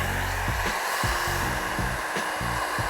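Heat gun blowing at maximum heat while shrinking tint film on a car windshield, a loud steady airy whoosh with a low motor hum that changes pitch in short steps, close and continuous with no voices.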